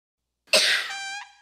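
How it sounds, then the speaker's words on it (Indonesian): A single harsh cough bursts out, loud and close, and trails into a rasping tonal tail in a cough medicine advertisement, with no talk. "Batuk dan pilek mengganggu keluarga."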